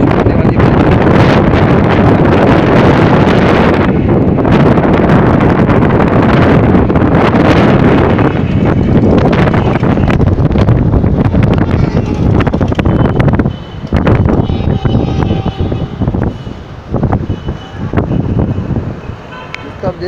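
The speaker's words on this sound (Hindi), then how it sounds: "अभी देख सकते हैं अब बहुत तेज़ हवा चल रही है" A strong wind and heavy rainstorm in Multan roar loud and continuous, with gusts buffeting the microphone throughout and easing slightly toward the end.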